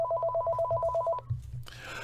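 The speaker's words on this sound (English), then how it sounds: "let's take a phone call" A telephone rings for an incoming call during a live radio show, a steady repeating electronic trill of about a dozen even pulses, loud and close, then cutting off into a brief clunk and hiss of the line picking up.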